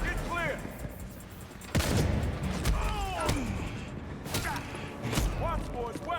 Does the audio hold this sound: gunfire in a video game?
yes